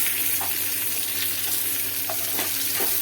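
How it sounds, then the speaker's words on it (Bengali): Onion and garlic sauté in butter in a pan while being stirred, giving a steady close hissing sizzle with a few soft spatula scrapes mixed in. "পেঁয়াজটা দিয়ে একবার আমি জাস্ট নেড়ে নিচ্ছি"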